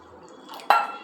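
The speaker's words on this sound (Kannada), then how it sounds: "ಇದಕ್ಕೆ ಸ್ವಲ್ಪ ಇನ್ನು ಸ್ವಲ್ಪ ನೀರು ಹಾಕೋತೀನಿ" Water is poured into ragi juice, a short liquid splash striking a vessel that begins softly and rises to a brief, bright burst before fading.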